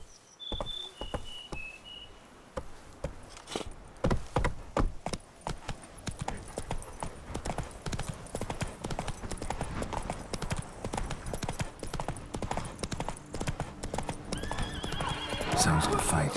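Horse galloping in The Witcher 3, fast rhythmic hoof clip-clops on a hard path with occasional whinnies, close and continuous, a brief voice at the start.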